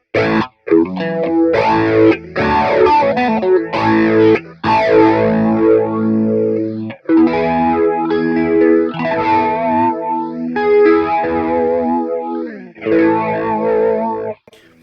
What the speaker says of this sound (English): I put an overdrive pedal in there and I put the phaser, just to experiment with what you could do